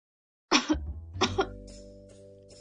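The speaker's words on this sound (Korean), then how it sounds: "요즘도 저렇게 기침을 하다니." Two harsh coughs in quick succession close by, followed by a faint sustained tone and a few soft sounds.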